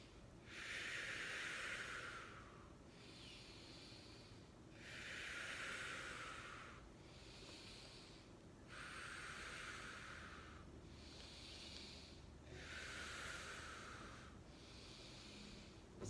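Slow, deep breathing during a chiropractic breathing exercise, four long airy inhale-exhale cycles, close and soft, each breath a drawn-out hiss with brief pauses between.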